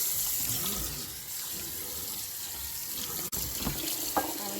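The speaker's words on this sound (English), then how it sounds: "I'm going to rinse them off real quick." Kitchen faucet running steadily while dried red chilies are rinsed under it, a close continuous splashing stream with small clatters of handling near the end.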